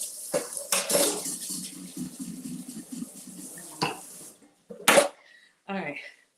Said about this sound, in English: let's just rinse this stuff off so it's less work.